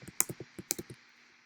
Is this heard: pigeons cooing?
no